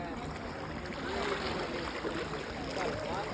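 Sea water washes in around bare feet on the shore at Bet Dwarka, a steady broadband rush of surf and lapping water running continuously and fairly close, with no clear talk over it.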